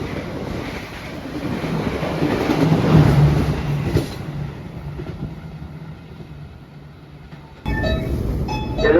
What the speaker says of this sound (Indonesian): Seperti inilah ya teman-teman tampilan KRL.